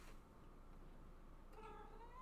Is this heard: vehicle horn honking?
no